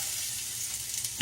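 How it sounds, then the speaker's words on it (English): Onion frying in olive oil over low heat, a steady close sizzle with soft crackle throughout and a brief stirring knock near the end. "the first thing I'm going to put in is my onion"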